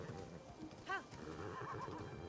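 Horse neighs once in the video game Breath of the Wild, a brief rising whinny standing out over steady game background sound and movement.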